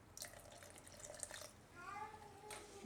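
Water poured into a pan holding a paan and gulkand mixture for sherbet, a splashing, trickling pour that runs for a couple of seconds with some kitchen clatter and a faint voice.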